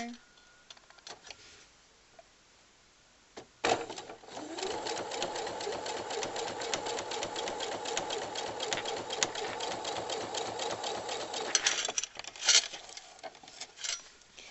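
A sewing machine stitches pieces of a pineapple quilt block, right sides together, at standard stitch length. A steady, loud, fast mechanical whir runs for about ten seconds after a quieter start, with faint talk underneath.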